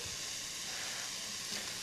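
Onions and peppers softening in a pot for bean chili, giving a steady, fairly quiet broadband sizzle and hiss that runs unbroken for a couple of seconds with no voices over it.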